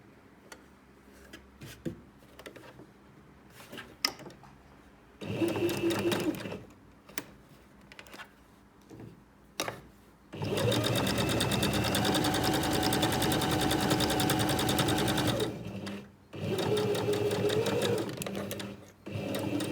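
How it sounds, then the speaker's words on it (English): A sewing machine stitches a fabric seam with a 1 cm allowance on a protective iPad mini cover, running in three steady bursts of close, busy whirring with quiet pauses between. "I'm going to sew the remainder of the bottom and back up the second side."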